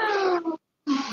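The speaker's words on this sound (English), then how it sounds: "The cat." A cat meows twice, close and fairly loud, the first call drawn out and the second cut off short after a brief silence.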